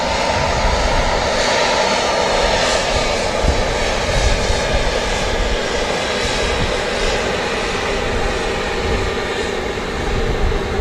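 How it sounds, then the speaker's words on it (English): Emirates Airbus A380 jet engines at Manchester Airport, a broad, steady roar that holds loud and unbroken from start to finish with no talk over it. "Unbelievable view of the Emirates A380 up close here at Manchester Airport"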